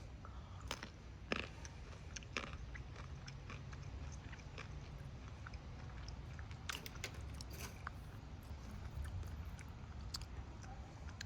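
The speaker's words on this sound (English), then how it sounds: "Let me just take another bite." Close, steady crunching as someone bites into and chews a crunchy barbecue-flavoured snack from a 2017 US cold weather MRE, a dense stream of crackly chews with a few sharper bite snaps early on, no talking.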